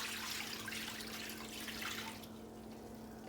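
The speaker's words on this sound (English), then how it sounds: "we are going to pour our chicken broth" Chicken broth poured over chicken in a pan before oven baking, a steady close splashing pour of liquid running for about two seconds, then a softer trickle as the flow tapers off.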